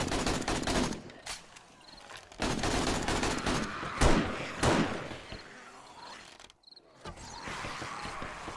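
Bursts of gunfire from the 7 Days to Die video game during a horde night, repeated loud volleys in several clusters with brief pauses between them and no talking.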